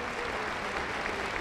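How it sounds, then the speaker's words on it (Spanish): Congregation clapping for Jesus during an evangelical church service in Huancayo, a brief continuous wash of many hands, fairly loud and sustained with no clear individual claps. "Aplauso contento para Jesús."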